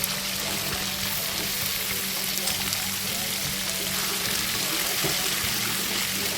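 Potatoes frying in a pan with turmeric, sugar and Kashmiri chilli, giving a steady, close crackling sizzle like light rain that runs evenly throughout with no voice over it.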